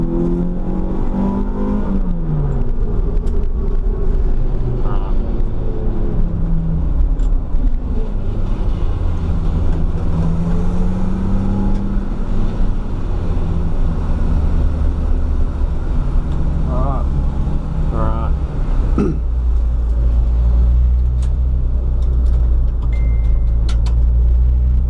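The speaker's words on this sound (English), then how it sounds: "full noise, you want to be able to get the gas down" A race car at full throttle during a track day, steady loud engine drone with rising revs through gear changes, heard from onboard under someone talking throughout.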